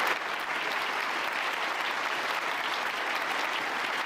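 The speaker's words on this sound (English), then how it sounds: "Oh, a standing ovation." Standing ovation in a conference hall at the Munich Security Conference, a dense, even wash of clapping from a large audience, steady and sustained with no voices over it.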